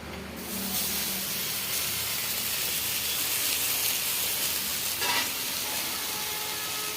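Greens boil in a pan with a steady, loud broadband hiss of steam and bubbling that holds nearly unchanged throughout, with no talking.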